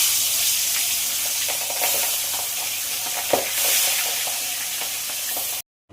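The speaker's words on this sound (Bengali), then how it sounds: "তেল মাছ ভাজার জন্য তেল কিন্তু গরম হয়ে গেছে। এবার মাছ ছেড়ে দেবো।" Steady sizzling and spitting of boal (wallago catfish) frying in hot oil, loud and close, with a few crackles and pops before it cuts off at the end.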